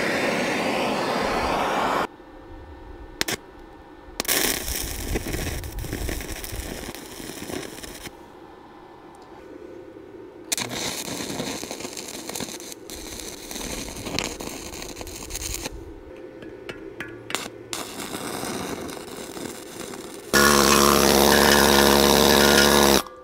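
Steel being welded during a rebuild of a Hyster winch for a Caterpillar D4 dozer: loud, close, crackling buzzy bursts of several seconds each, separated by short pauses, with no talking.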